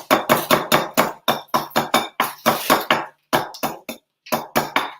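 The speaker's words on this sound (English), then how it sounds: "Now I'm just whisking." A whisk beats pancake batter in a bowl as a quick run of sharp, evenly paced clicks and taps, close and loud, broken by a couple of short pauses, with no speech.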